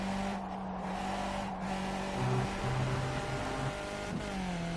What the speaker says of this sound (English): I like seeing the cars go up and down the other side of the track